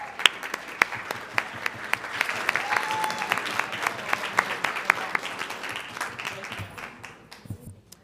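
Audience applause fills a student assembly conference hall, a steady dense clapping with sharp individual claps standing out, sustained for several seconds before tapering off near the end.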